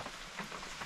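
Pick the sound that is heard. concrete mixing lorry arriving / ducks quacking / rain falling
rain falling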